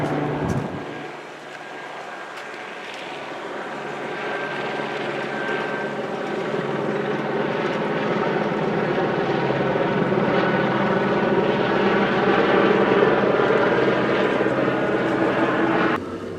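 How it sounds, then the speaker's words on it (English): A silver and gray LAPD helicopter passes low and directly overhead, its rotor drone swelling steadily and holding loud throughout with no talk. "Low helicopter flyover."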